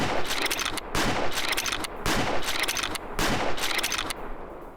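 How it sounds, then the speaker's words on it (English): Lever-action rifle fired rapidly in the hunting game Way of the Hunter: four loud shots about one second apart, each with a booming echo and the clack of the lever between them, with no talking. "I was actually wanting to showcase the good thing about this gun, and that was the speed that you can shoot."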